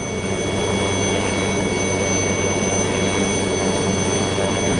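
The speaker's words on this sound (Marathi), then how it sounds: "सियाचिन ग्लेशियरची लाईफलाईन असते हे इथे उडणारे हेलिकॉप्टर्स" Military helicopters fly over the Siachen Glacier, giving a steady, unbroken rotor and engine roar that fills the whole stretch at constant loudness with no gaps.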